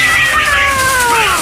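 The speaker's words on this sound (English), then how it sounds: "The cats are chatting." Cats meow in drawn-out, gliding calls, close and loud over a dense hiss of background noise.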